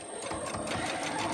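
A sewing machine runs steadily, stitching surgical mask fabric in one continuous, even whirring motor buzz with fast rhythmic needle clatter, close and moderately loud, with no voices.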